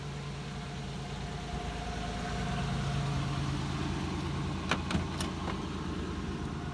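A 1989 Oldsmobile Cutlass Cruiser idles steadily, its engine a close, even low rumble with a few brief clicks near the end.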